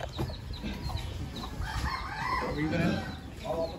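Chickens cluck and a rooster crows nearby in a rural yard in Gumaca, Quezon, the calls rising through steady outdoor noise with some talk mixed in.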